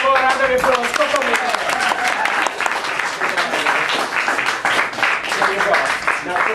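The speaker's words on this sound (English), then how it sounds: "Give her one more round of applause, Kokomi!" Audience applause after a handcuff escape performance on stage, steady dense clapping running throughout with a voice speaking over it.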